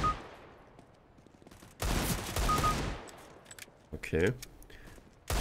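Desert Eagle pistol shots in CS:GO, a sharp loud burst at the start and another dense volley in the middle, with a click-like rattle after, while a voice briefly speaks.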